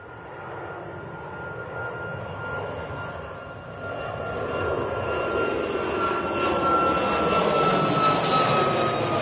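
An EasyJet airliner at Manchester Airport roars with a loud, sustained jet engine rumble and whine that builds steadily over several seconds, heard from outside with no voices.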